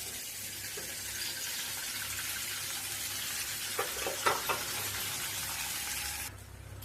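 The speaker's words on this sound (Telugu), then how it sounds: "ఎగ్ని వేసుకున్నాక ఇలా మనం కొద్దిగా ఫ్రై అయ్యాక" Beaten egg fries in a pan for egg rice, a soft, steady sizzle near and fairly quiet, broken mid-way by a few brief scraping stirs before the sound drops off at the end; no one speaks.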